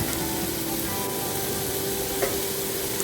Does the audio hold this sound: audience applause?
no